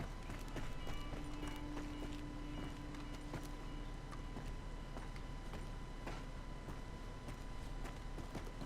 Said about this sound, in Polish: Słyszałem jakiegoś konia.